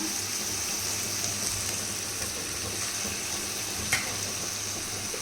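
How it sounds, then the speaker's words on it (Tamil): Ginger garlic paste and onions sauté in a pan with a steady close sizzle and soft stirring scrapes, plus one brief clink near the end. "இஞ்சி பூண்டு பேஸ்ட்டை நம்ம போட்டுடலாம் போட்டு நல்லா வதக்கிடலாம்"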